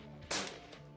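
One sharp, muffled crack from a full-power .308 rifle fitted with a G3 Defense Mk7 suppressor, a single brief report standing alone at low level.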